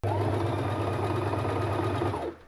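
A sewing machine runs in a continuous, close, steady whir in a home studio in Barbados where bras are being made, then stops abruptly near the end.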